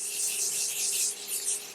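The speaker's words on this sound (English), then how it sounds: "I'm just going to quickly set it with my Morphe setting spray." Morphe setting spray mists onto a face, a close, steady hiss of fine spray that runs for under two seconds with slight pulsing.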